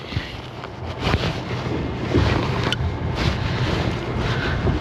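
A fishing boat runs over choppy, wind-blown water on Lake Guntersville, with steady broadband rushing, hull thumps and loud wind buffeting on the microphone throughout.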